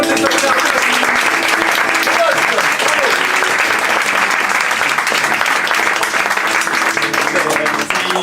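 A crowd claps loudly and continuously after a performance by a touring theatre company at a village event, with voices and faint music mixed under the dense applause.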